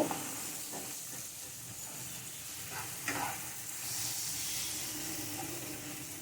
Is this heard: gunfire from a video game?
no